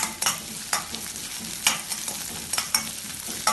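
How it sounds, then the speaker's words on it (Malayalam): Onions and curry leaves stirred and sautéed in a pan for a kohlrabi kurma, with a spoon scraping in irregular strokes over a soft, steady sizzle, fairly close. "ഇതിനി ഇളക്കി വഴറ്റാം. ഇതിന്റെ കൂടെ തന്നെ കുറച്ച് കറിവേപ്പിലയും കൂടെ ചേർക്കാം."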